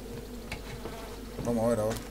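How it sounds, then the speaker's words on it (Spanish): Bees buzz inside a building in the Far Cry 5 video game, a low droning hum with a brief louder swell near the end, heard alone without talk. "ahí adentro está lleno de abejas"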